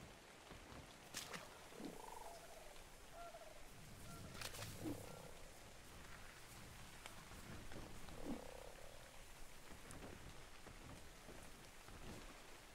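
A frog croaks in the swamp cave of ARK's The Island map. Several deep croaks repeat at uneven intervals over a steady, rain-like wash of background ambience.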